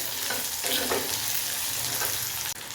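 Small onions sauté in a pan for a tangy vathal kuzhambu, giving a dense, steady sizzle close up with brisk stirring throughout and a brief drop at the end.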